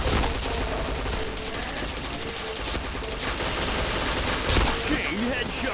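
Rapid gunfire from a shooting video game, dense automatic bursts running steadily throughout at moderate loudness, with players talking over the shots.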